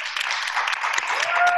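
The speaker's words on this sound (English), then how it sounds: "if we can give a round of applause" A brief burst of audience applause welcomes a doctor to a question-and-answer session, a close, bright patter of many hands held at an even level.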